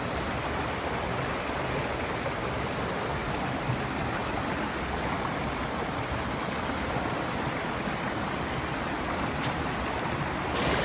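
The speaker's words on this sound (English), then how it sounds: "Waterfall behind me, Threadbow River" A waterfall on the Thredbo River in the Snowy Mountains pours in a constant, full rushing roar that stays even and unbroken throughout, with no voices over it.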